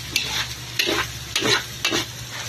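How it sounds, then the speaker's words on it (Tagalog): Pork intestines sauté to render their fat, with four rhythmic spatula scrapes against the pan over a low, continuous sizzle, close and fairly loud. "Sangkutsahin muna natin para lumabas yung"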